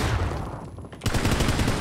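Gunfire in the video game PUBG on the Miramar desert map during a ranked match: dense, rapid bursts of loud shots with a brief lull in the middle, then more fire, close and punchy.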